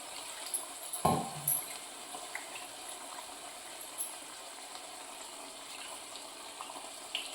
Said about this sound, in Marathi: हे जे मसाल्याचं पाणी आहे ते आपण थोडं ह्याच्यामध्ये धुवून टाकायचं.